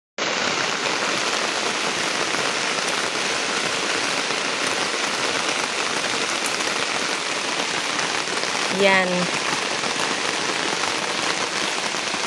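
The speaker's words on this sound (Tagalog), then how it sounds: "Umuulan." Steady rain falls on a muddy, slippery path, a dense even wash of drops striking surfaces close by throughout, with a single short spoken word heard briefly near the end.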